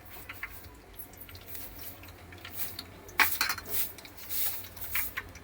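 Faint metal spoon clinks and scrapes in a cooking pan as green chillies, onions and curry leaves are stirred into cumin and mustard seeds. The clinks are scattered and soft, growing a little busier toward the end, with no talking.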